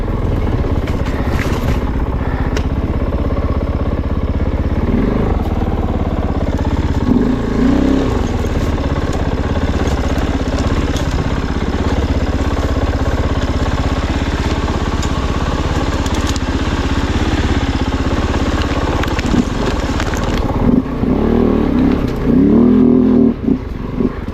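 A Kove 450 Rally dual sport motorcycle is ridden along a British Columbia singletrack trail, its single-cylinder engine droning steadily and close, with occasional surges and revs as the throttle shifts.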